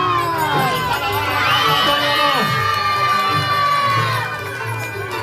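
A supporters' section roars and cheers at a 2024 festival contest, loud massed shouting and whoops with children's voices, continuous and close, swelling in the middle before easing slightly at the end.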